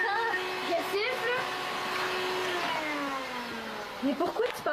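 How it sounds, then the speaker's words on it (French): A vacuum cleaner drones steadily with rising and falling pitch, a voice briefly audible near the end. "Mais pourquoi tu passes l'aspirateur, là?"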